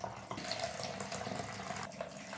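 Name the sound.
water poured into measuring jugs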